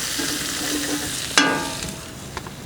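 Onions sizzle in a hot pan that has just held sausage for sausage and peppers, with a sharp scrape of stirring partway through and softer scuffs after, a steady close frying hiss throughout and no talk.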